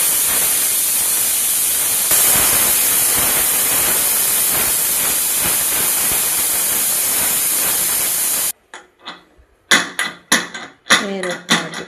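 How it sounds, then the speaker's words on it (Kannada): A kitchen pressure cooker cooking tomato bath releases a loud, steady blast of hissing steam for about eight seconds, then cuts off, followed by a few sharp bursts of hiss and puffs. "ಕುಕ್ಕರ್ ಕ್ಲೋಸ್ ಮಾಡ್ತಾ ಇದ್ದೀನಿ. ಸೊ ಒಂದೆರಡು ವಿಷಲ್ ಹೊಡೆಸ್ಕೊಂಬಿಡಿ."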